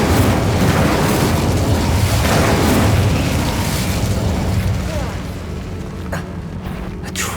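A loud, rumbling fiery blast from the Incendio spell in Hogwarts Legacy, roaring continuously for several seconds before slowly fading into quieter crackles.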